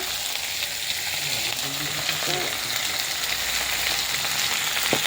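Potatoes frying in a pan with turmeric and salt while khichuri is cooked at home, giving a steady, close sizzle that runs unbroken, with faint scrapes of stirring.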